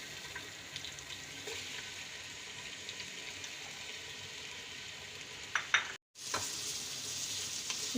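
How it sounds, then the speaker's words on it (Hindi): Onions fry in hot oil alongside cinnamon, cloves and black peppercorns for a fish biryani, giving a steady, close, loud sizzle with a brief break near the end before it resumes. "अब इसमें हम प्याज डाल देंगे।"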